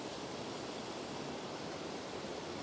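A Scottish Highlands waterfall pours in a steady, broad rushing roar, close and unbroken, with no voices.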